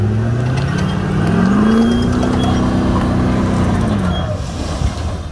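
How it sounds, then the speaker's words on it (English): Truck reversing fast near a dumpster and then braking hard: a rising engine drone with a ramping tone that levels off and fades, loud and close, with no talk. "Put it in reverse and then go as fast as possible and then just hit the brakes"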